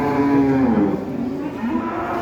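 Loud, close moo from a jumbo cow at a livestock market, one long drawn-out call that falls in pitch and then swells again, with no talk over it.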